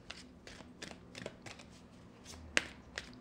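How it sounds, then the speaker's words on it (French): Angel oracle cards being shuffled by hand, a series of soft riffling bursts repeating at a steady rhythm, close and fairly quiet, with one sharper snap near the end and no talking. "Je vais aller chercher une carte des anges pour terminer cette lecture."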